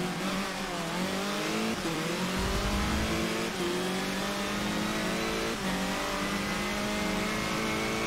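Race cars in Forza Motorsport 7, Formula Ford career mode, roar at high revs with rising and falling engine pitch through gear shifts, loud and continuous.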